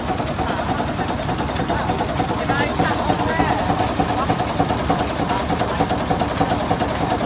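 A 1929 Gardner 3J5/2 two-stroke engine runs steadily at a rally, a continuous low mechanical chug with a rapid regular beat, with people talking nearby over it.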